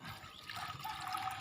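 Water streams and trickles into a drum in a papaya orchard, filling it for spraying with a continuous gurgling rush.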